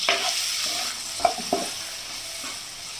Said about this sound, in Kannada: ಇವಾಗ ಈರುಳ್ಳಿನ ಚೆನ್ನಾಗಿ ಫ್ರೈ ಮಾಡ್ಕೊಳ್ಳಿ.